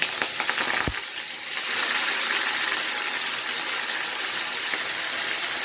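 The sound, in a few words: frying peppers and leek for ackee and saltfish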